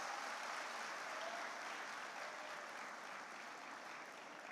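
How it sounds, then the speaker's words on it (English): Graduation ceremony audience at a business school campus in Hyderabad applauding graduates and their families, a broad sustained roar of many hands clapping in a large hall, steady and slowly easing. "Give them a big applause."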